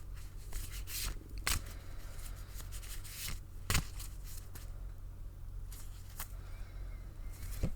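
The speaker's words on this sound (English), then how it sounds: "So here we go, shuffling." Tarot cards being shuffled by hand, with soft papery riffles and repeated sharp snaps of cards striking together, close and fairly quiet with no talking.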